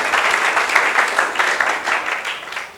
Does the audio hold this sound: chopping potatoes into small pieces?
no